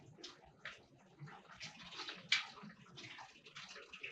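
Water runs out of a siphon hose through a strainer into a barrel, a faint, steady trickling and splashing with small irregular spurts, close by and quiet.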